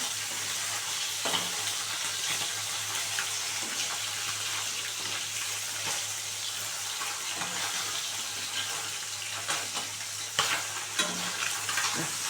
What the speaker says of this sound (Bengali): এই মাছগুলো ভাজা হয়ে গেছে তুলে নিচ্ছে